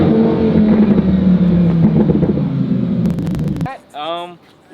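A Lamborghini Huracan engine screams at high revs through a hard pull, loud and close with wind rush, then cuts off abruptly with a few sharp pops before someone briefly speaks.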